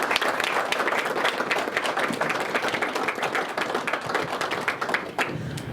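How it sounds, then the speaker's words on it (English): Audience applause at a research library dedication at a museum, a dense burst of clapping from a crowd, loud and steady, fading slightly near the end. "Give these gentlemen a round of applause."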